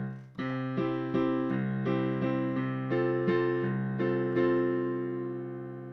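A piano plays the linking passage into the chorus of a song, a steady run of struck chords and notes with a held bass, played alone and clearly.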